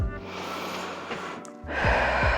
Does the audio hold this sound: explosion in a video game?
no